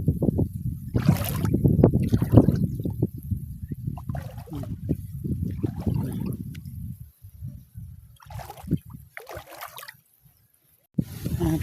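Wind gusts over open water during a morning fishing trip, a rough, breathy rushing that comes and goes in bursts with watery sloshing and a few gaps of near-quiet.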